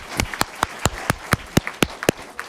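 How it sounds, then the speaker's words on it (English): Applause at a school board meeting: about a dozen crisp, fairly evenly spaced claps ring out close by, sounding like a small group or a few hands rather than a large crowd, with no talking. "Round of applause."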